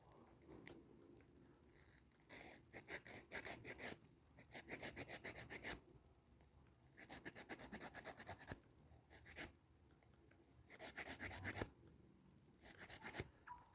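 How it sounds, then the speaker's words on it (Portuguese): A nail file sands an acrylic nail extension with repeated rasping strokes in rhythmic bursts, some short and some sustained for a couple of seconds, close and fairly quiet with no talking. "Vou lixar o outro lado."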